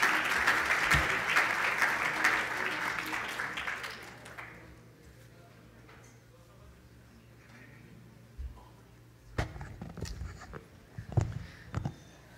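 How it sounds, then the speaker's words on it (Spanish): Audience applause at an evening medical history session rings out loudly for about four seconds, then fades into quiet room noise with scattered claps, shuffles and thumps near the end. "Me gustaría recibirlo con un fuerte aplauso"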